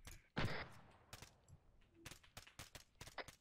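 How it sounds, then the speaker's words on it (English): Gunfire in a military video game: several sharp, fairly quiet shots and short bursts spread unevenly across a few seconds, with no talk over them. "I'm taking shots."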